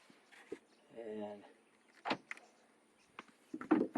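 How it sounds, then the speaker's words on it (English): A 2010 Chrysler 300 car door lock actuates with a short mechanical buzzing whir, followed by a few sharp clicks and clunks, close by and alone. "okay, the lock works. And it unlocks."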